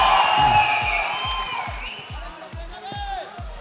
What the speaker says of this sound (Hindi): जोरदार ताली होनी चाहिए अजय देवगन के लिए